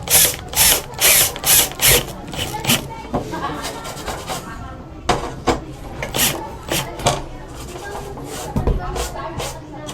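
A power drill drives a black Hardieflex screw with scraper, starting with a rapid series of loud bursts and then turning into a rough grinding whir. Someone talks over the tool.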